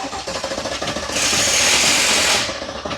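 A 2021 Chevrolet Silverado engine cranks over during a compression test, a loud whirring starter drone lasting about a second and a half, framed by quieter rhythmic mechanical ticking before and after.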